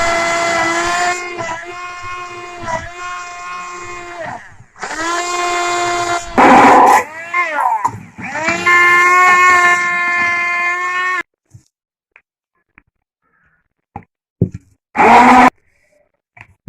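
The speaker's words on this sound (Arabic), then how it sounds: "بعد ما كملت الطحين ديال المايونيز ديالنا" A kitchen blender whirs loudly through homemade mayonnaise of oil poured in gradually, running in several long bursts with brief pauses and stopping near the end, followed by a couple of short clicks.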